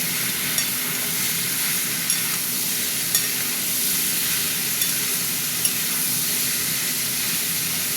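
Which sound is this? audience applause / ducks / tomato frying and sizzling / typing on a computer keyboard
tomato frying and sizzling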